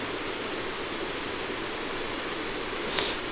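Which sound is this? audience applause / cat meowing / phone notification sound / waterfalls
waterfalls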